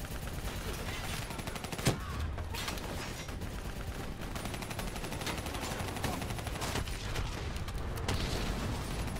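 Call of Duty Black Ops III battle audio: dense, continuous automatic gunfire aimed at a VTOL aircraft, loud and relentless, with booming impacts mixed throughout.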